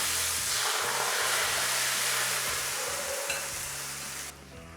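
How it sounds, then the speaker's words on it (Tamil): Dosa batter made with oats, poured onto a hot griddle, giving a loud, steady sizzle and hiss close by that slowly fades and then drops away sharply near the end. "இதில் நம்ம வந்து ரெடி பண்ணி வச்சுருந்த தோசை மாவு ஊற்றிடலாம்"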